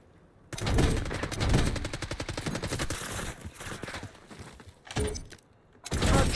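Sustained rapid automatic gunfire rattles in Black Ops 6 multiplayer, loud and close, in long bursts with brief pauses, then a couple of short sharp volleys near the end.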